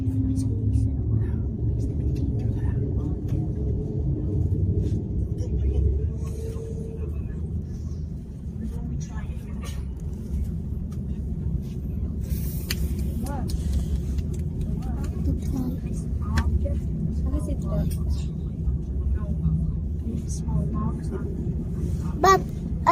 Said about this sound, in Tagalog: The engine is roaring.